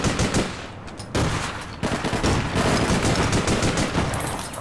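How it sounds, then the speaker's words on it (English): Loud, close gunfire rattles in APB Reloaded, sustained automatic bursts with two short gaps breaking the stream, otherwise dense and continuous. "I might have just shot my teammate there"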